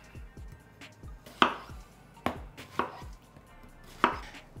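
Knife chopping watermelon and other ingredients on a cutting board for a vegan watermelon pico, with sharp, irregular close-up chops and several louder board strikes spaced apart, no talking.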